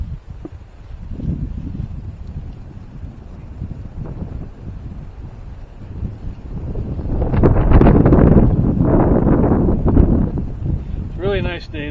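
Gusts of wind buffet the microphone in rising and falling rumbles, strongest near the middle, while a person speaks nearby outdoors at a sunny Minnesota homestead during maple sap cooking.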